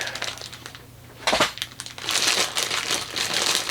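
Crinkling and crumpling of a cardboard model kit box for a Fujimi Savanna RX-7 FC3S being shifted, with bursts of rustling close by.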